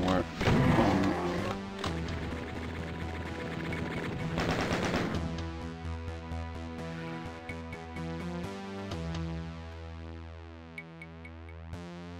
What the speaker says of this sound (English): There is a minigun gunner somewhere on